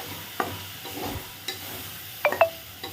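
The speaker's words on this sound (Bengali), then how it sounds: "এবারে মশলার সাথে চালটা ভেজে নেব।" Gobindobhog rice frying with spices in a pan, a low sizzle broken by scraping stirs and a few sharp clinks of a spatula against the metal.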